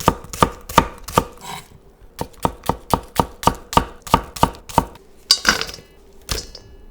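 Knife chopping a small onion into thick strips on a cutting board: a steady run of crisp, close, evenly spaced chops with a short pause partway through, alone with no talk.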